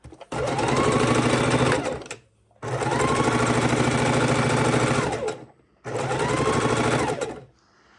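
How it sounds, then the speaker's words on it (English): A sewing machine chain stitches purple and red quilt strips cut from precuts, running in three steady, loud bursts of rapid stitching with brief pauses between pieces. "we're simply going to chain stitch these on"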